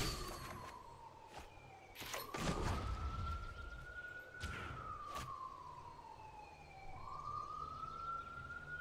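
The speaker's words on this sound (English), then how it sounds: "Shut up, Sirens." Emergency vehicle sirens wailing in rising and falling sweeps, steady and fairly prominent, interrupted by several sharp clicks and a brief louder burst, no talking.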